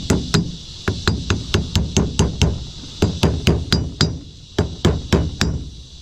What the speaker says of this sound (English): I'm going to go get a hammer real quick, and I will lightly tap that in